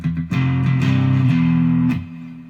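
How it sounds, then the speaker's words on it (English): A distorted electric guitar rings out sustained chords, loud and close, gritty and dirty in tone, shifting pitch twice before the notes fade out near the end. "then it'll get kind of dirtier, with a little bit of distortion"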